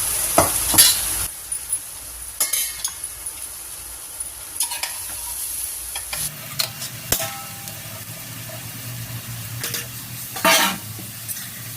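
Shredded cabbage tipped into a hot pan of tempered spices for sambar, landing with a crackle, then sizzling steadily while a spatula scrapes and clinks against the pan now and then; close and fairly loud.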